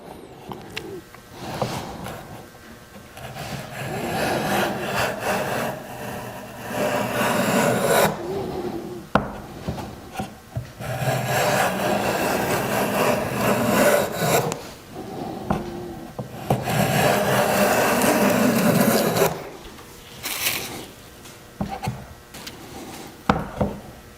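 Hand plane shaving wood while shaping a cove molding with hand tools: long, steady rasping strokes repeat in a rhythm with brief pauses between passes, close and fairly loud, with no talk.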